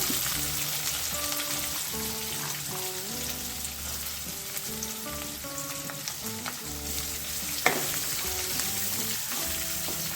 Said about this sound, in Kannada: ಈಗ ಸ್ವಲ್ಪ ಬೆಳ್ಳುಳ್ಳಿ ಹಾಕೊಳ್ಳೋಣ ಅದೇ ಒಂದು ನೀರುಳ್ಳಿ ಕಟ್ ಮಾಡಿಟ್ಕೊಂಡಿದ್ದೀವಿ ಅದು ಕೂಡ ಹಾಕೊಳ್ಳೋಣ